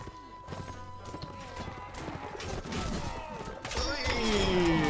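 Horse hooves clip-clop rapidly in a galloping rhythm during a battle in the video game Mount & Blade: Warband, with clashing, cracking combat noise and a rising whinny-like tone near the end.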